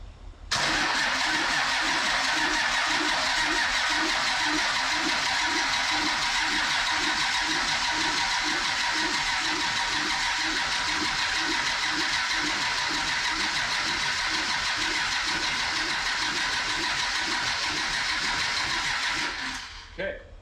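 A 600hp bus diesel engine, fitted in a pickup, cranks with a steady rhythmic chug, running loud and close for about twenty seconds before cutting off.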